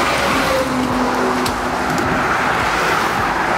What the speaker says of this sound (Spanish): En este momento, el auto tiene que sobrepasar la doble línea en un lugar que no puede o que no debe